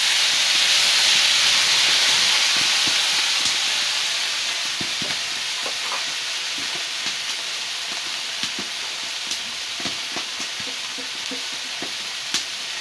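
After water is poured onto fried onion and cumin in a home pan, a loud, continuous steam hiss fills the sound, easing slightly over time, with scattered light clinks and scrapes of stirring.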